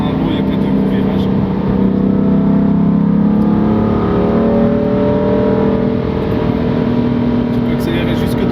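A car accelerates hard along a long stretch of the Nürburgring in the rain, its engine droning loud and close with rising and falling pitch, under a steady wash of road and spray noise.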